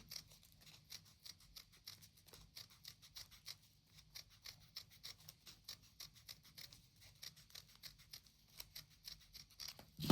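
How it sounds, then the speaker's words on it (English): Paper circles being cut out with scissors, making a steady run of faint, crisp snips at a regular pace, close by and quiet, with no talking. "Slowly cut out your circle."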